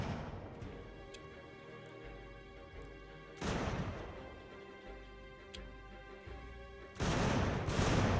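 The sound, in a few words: gunfire in a strategy video game battle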